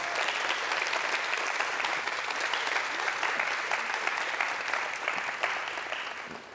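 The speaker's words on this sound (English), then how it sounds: "Round of applause" An audience at a live theater show applauds steadily, a dense, even patter of many hands that tapers slightly at the end, with no talking over it.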